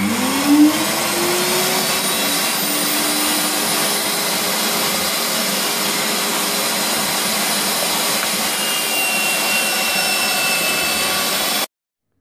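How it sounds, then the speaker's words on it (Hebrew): A meat grinder grinds soaked chickpeas with parsley and onion, a loud, steady motor whir and roar running continuously up close until it abruptly stops. "ואני טוחן אותו במטחנת בשר. אני מכניס גם פטרוזיליה וקצת בצל."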